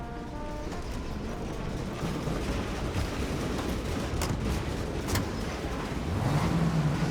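A car driving in Mafia Definitive Edition, a continuous close engine drone and road rumble that stays steady throughout, with a rising engine note near the end and no talk.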